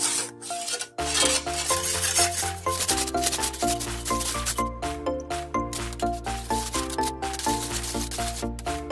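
A spoon stirs a mixture for Bika Ambon in a pot, with salt and vanilla added, scraping and rubbing steadily and close under a backing of tinkling music.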